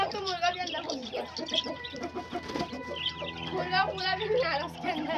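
Chickens cluck and a rooster calls inside a pigeon coop, busy close-up bird chatter with overlapping squawks and coos, while a person talks over the flock.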